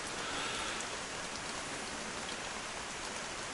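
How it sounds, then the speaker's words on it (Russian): Rain falling on the roof of a small forest hut, a dense, even patter that holds steady and fairly soft throughout, with no voices. "Дождь идет."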